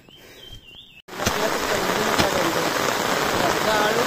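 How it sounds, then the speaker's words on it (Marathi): Heavy monsoon rain pours down in the Konkan countryside where grafted saplings are being planted; after a brief quieter moment with faint chirps, a dense, steady roar of rain sets in and holds loud to the end. "खूप मोठा पाऊस आलाय"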